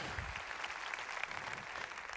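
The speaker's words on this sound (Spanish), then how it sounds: "Un aplauso para todos los voluntarios." A church congregation at a Christian fellowship gathering applauds its volunteers, a steady wash of clapping at moderate distance that holds evenly for the whole stretch without pause.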